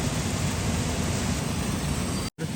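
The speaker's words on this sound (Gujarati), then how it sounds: "વરસાદ રહેતો નથી બંધ" Heavy rain pours steadily in Surat, a broad, constant wash of noise that cuts out abruptly for a moment near the end, with no voices.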